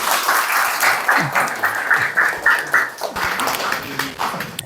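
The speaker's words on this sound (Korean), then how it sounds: "박수로 크게" Loud audience applause at a seminar as a lawyer is welcomed, many hands clapping in a room with rhythmic pulses and a few voices and brief low sounds mixed under the clapping.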